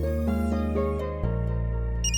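A phone ringing with a repeated melodic ringtone, loud and close, a few tonal pulses that shift to a steadier tone partway through, without talk.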